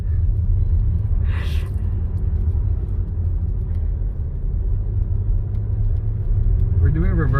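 Low rumbling engine of a Nissan Altima doing reverse donuts in snow, running steadily at close range, with faint voices briefly audible near the start and end.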